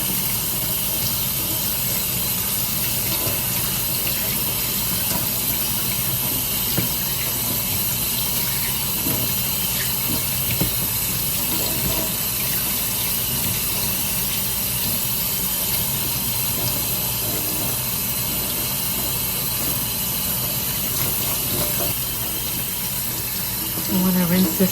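Tap water pours steadily into a sink while an American Girl doll's hair is rinsed, a loud, continuous close splashing hiss that never lets up.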